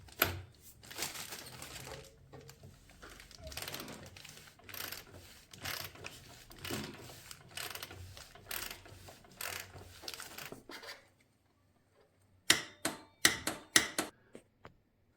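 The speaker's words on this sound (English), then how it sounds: "now we have to put the 35 Newton meters torque at the torque wrench" A torque wrench ratchets while a bicycle bottom bracket is tightened to 35 Newton meters, close metallic clicking and grinding for about ten seconds, then a pause and a few sharp, loud clicks.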